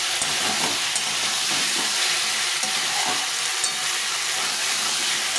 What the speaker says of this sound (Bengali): মশলাটাকে ভালো করে কষিয়ে নিয়েছি